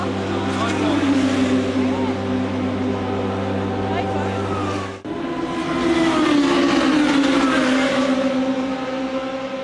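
A historic race car engine at a historic Grand Prix event revs under computer control, a loud sustained roar that cuts out briefly and then surges back, with voices in the background.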